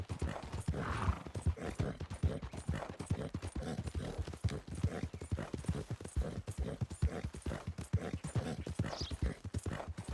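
Steady horse hooves clip-clopping at an unhurried pace across ground in Red Dead Redemption 2, a spotted Appaloosa heading toward Fort Mercer, rhythmic and close, with a brief whinny near the end.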